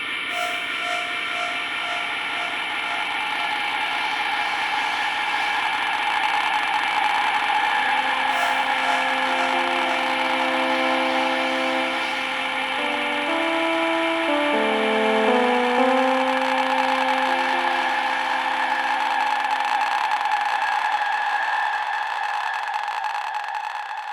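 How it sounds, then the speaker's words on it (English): A four-layer ambient soundscape built with a Gamechanger Audio Plus sustain pedal: a dense, continuous drone wash with slowly shifting held tones and a low melodic line weaving through the middle, fading out at the end, no voices. "what you just heard is a soundscape that consists of 4 different layers"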